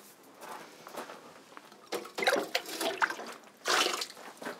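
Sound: water being poured into a container

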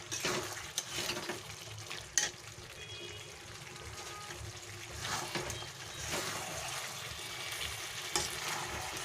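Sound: sautéing (kosha) jackfruit chicken curry in a pan

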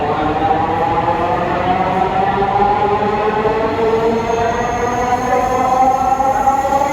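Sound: metro train departing from station

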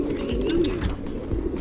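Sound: racing pigeons cooing and flapping wings

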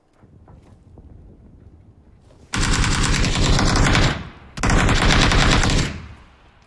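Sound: gunfire hitting a wall in a video game

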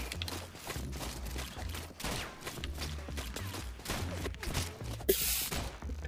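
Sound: gunshots in the ROUNDS video game

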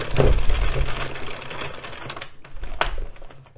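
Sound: addi express kingsize knitting machine cranking rounds

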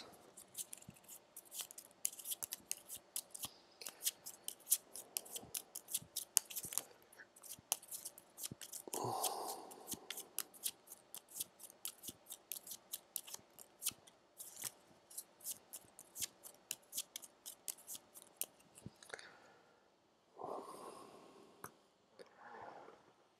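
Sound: shuffling the boss deck cards in Gloomhaven board game

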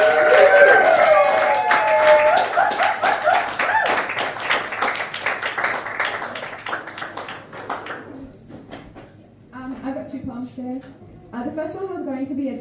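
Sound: audience applause at poetry reading

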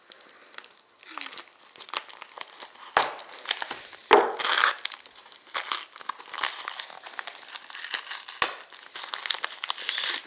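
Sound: unwrapping newspaper and plastic bag packaging

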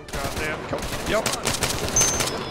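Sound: gunfire in the video game ArmA III

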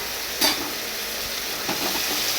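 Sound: vegetables being stirred and fried in a kadai

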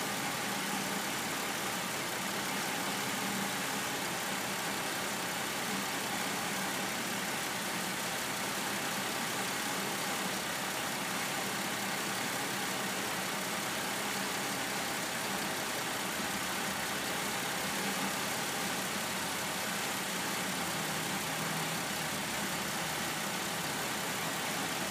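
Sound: 2003 Pontiac Aztek 3.4 engine idling

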